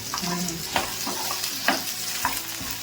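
Sliced okra sizzling in hot oil in a pan, with repeated scraping stirs of a spatula over a constant frying hiss; close and fairly loud.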